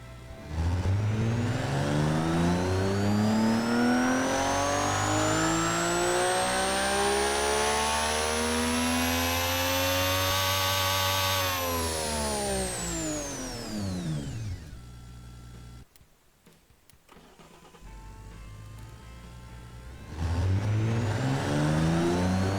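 Car engine in the video game Automation revving on a dyno, a long sweep climbing steadily to high revs, then falling away, a brief lull, and a fresh rev starting; loud and continuous, no talking.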